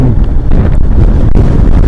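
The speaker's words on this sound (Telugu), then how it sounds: "గాలి పెడుతుంది." Loud wind roars and buffets against the microphone in a continuous heavy rumble on the road to Kaza in Spiti Valley, close and rough with no other sounds standing out.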